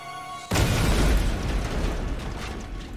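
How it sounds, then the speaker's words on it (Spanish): A bomb explosion erupts suddenly into a loud, sustained, rumbling roar with heavy low-end boom that slowly decays over a few seconds. "La explosión fue la más espantosa hasta entonces."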